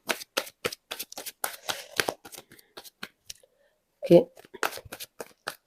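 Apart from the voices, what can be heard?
shuffling tarot cards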